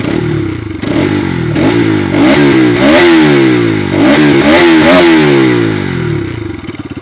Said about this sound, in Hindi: तो कुछ इस तरह का साउंड आपको नई पल्सर RS 200 में ऑफर किया जाता है